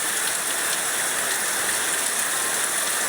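Heavy rain falling steadily outdoors, a dense, constant hiss of drops at a uniform loudness throughout, with no voices.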